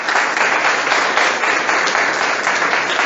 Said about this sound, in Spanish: Un aplauso por Francisco.